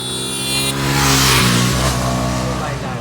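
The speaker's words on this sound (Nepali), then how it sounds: "बाइक आयो" A motorbike engine approaches and revs at close range, its droning tone rising and swelling briefly before easing off over a few seconds.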